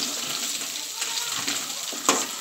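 Crab pieces frying in a pan over a medium flame give a steady, moderately quiet sizzle with faint crackles and a couple of stirring scrapes, with no talking.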